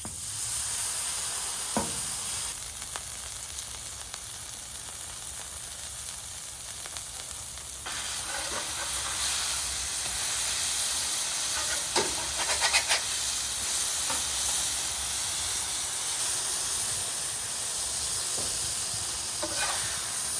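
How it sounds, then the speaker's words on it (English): Burger patties sizzle on a hot griddle in a steady, hissing wash that runs the whole time, with a few faint clicks and scrapes, close and without talk. "I'm gonna do 2 of them on the griddle"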